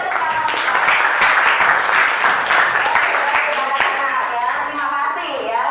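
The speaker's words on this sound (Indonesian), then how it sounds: "boleh tepuk tangan." A class of children applauding on cue, steady bright clapping from many hands, loud and close, running continuously with faint voices mixed in near the end.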